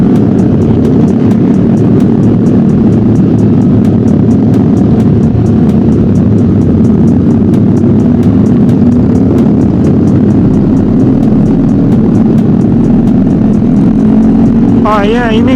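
Loud motorcycle exhausts, including an R15, rumble and drone continuously up close on a night ride, a heavy engine roar filling the scene.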